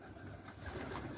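Pigeons coo softly outdoors in a brief, low murmuring call, faint and somewhat distant against a steady background hum.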